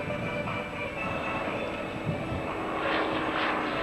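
An aerobatic aircraft, likely a Yak, performs at an air show, its propeller engine droning steadily at a distance over broad background rumble, with no voices heard.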